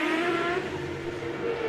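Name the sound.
Minardi Team USA Champ Car race car engine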